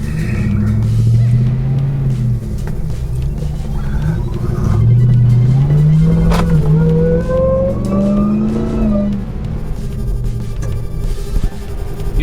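A Jeep Gladiator pickup truck engine rumbles loudly and revs up in rising surges, the pitch climbing steadily as it accelerates, with constant road noise underneath.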